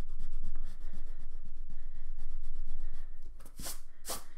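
A pencil traces the curved outline of a moon shape on paper for a watercolour garden sketch, a soft steady scratching in short repeated strokes, close and alone, ending with a couple of brighter rubbing swipes.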